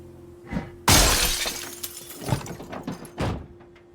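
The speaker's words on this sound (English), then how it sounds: "I'm gonna have to smash a window then." A car window smashed in the video game Project Zomboid, one loud sudden shatter of breaking glass followed by scattered tinkling debris and a few duller thuds, close and clear with no talk.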